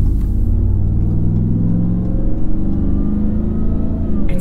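A Ram TRX pickup truck with an AWE 0FG aftermarket exhaust rumbles loudly and steadily up close, revving with a deep, throaty, rhythmic burble throughout.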